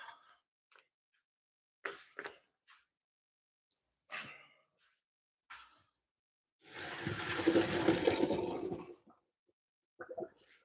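Boiled pasta noodles drained into a sink, a loud rush of pouring water lasting about two seconds, framed by scattered soft knocks and clatters of the pot before and after.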